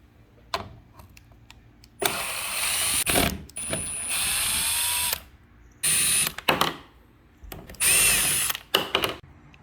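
Power driver backing screws out of a Craftsman B250 leaf blower housing, several loud close whirring bursts separated by quiet pauses with small clicks and handling noises.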